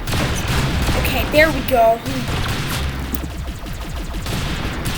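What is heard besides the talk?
gunfire in the Roblox video game Arsenal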